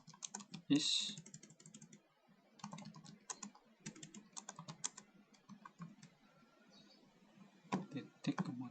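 Someone types on a computer keyboard nearby in quick bursts of clicking keystrokes separated by short pauses, with a louder key press near the start and more clicks at the end, under low talk.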